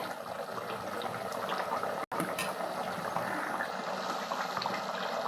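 Tomato gojju chutney cooking in a pan, a continuous close bubbling and popping of thick simmering sauce, steady throughout with a momentary dropout midway.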